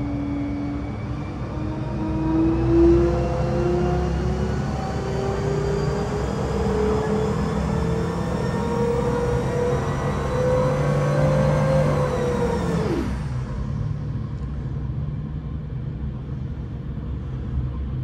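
An EdgePerformance EP912STi engine on a dyno at full boost roars loudly and steadily, climbing in pitch, then cuts off abruptly near the end, leaving a fading rumble.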